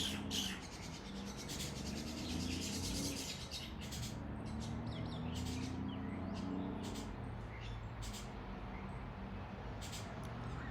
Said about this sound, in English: Those birds singing knows that